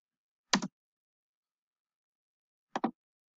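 Two short bursts of keystrokes on a computer keyboard, each a quick double click, close and clear with silence between them.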